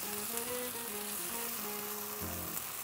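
Chopped onion, garlic and bay leaf sizzling in olive oil in a hot pan, a steady soft crackling fry with a faint tonal hum underneath.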